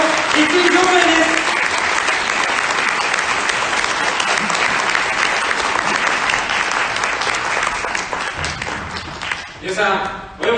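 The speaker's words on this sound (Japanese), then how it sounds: "皆さん 盛大な拍手でお迎えください。" A crowd at a 2021 Japanese election campaign kickoff rally applauds to welcome a candidate with loud, continuous clapping for about eight seconds, which then thins out as a voice begins speaking near the end.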